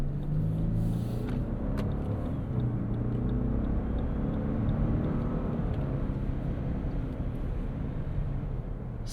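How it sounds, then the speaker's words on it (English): Steady low cabin rumble and road noise from a 2025 Lexus LX 700h Overtrail twin-turbo V6 hybrid with a 10-speed automatic on a morning commute. The drone is smooth and unbroken, heard from inside the vehicle, with no talk. "Silky smooth V6, pretty quiet, and nice gear changes from the 10-speed automatic."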